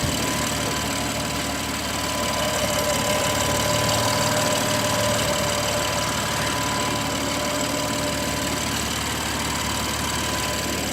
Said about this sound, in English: that's BMW's legendary M-powered straight six motor.